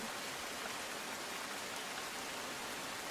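Heavy rainfall in a Gujarat city, a dense, even hiss of rain pouring down without a break, with no voices.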